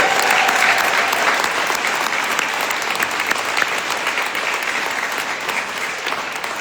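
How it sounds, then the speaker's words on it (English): Sustained applause from an audience at a victim rights awards ceremony in a state house fills the whole stretch, steady and dense, then tapers slightly toward the end. "how about another round of applause for all our"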